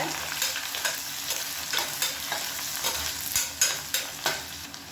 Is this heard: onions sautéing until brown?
yes